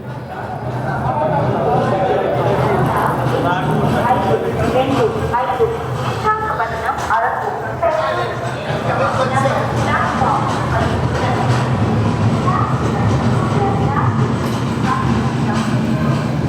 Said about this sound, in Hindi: तो अपने निर्धारित समय 8:20 पर हमारी ट्रेन निकल रही है विशाखापट्टनम जंक्शन से।